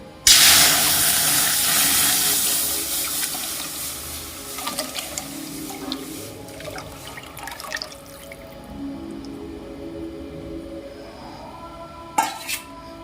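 Milk poured into a wok (kadai) while making pitha, a steady broadband splashing hiss that starts loud and slowly fades, with a few light clinks of the pan near the end and no talking.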